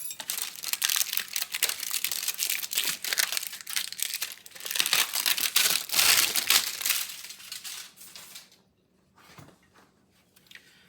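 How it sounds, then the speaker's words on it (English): Plastic foil is peeled off and crumpled from the packaging of a jumbo 7-inch digital display, a dense, close crackling that runs for several seconds before thinning to a few scattered crinkles and near silence. "removing the plastic foil"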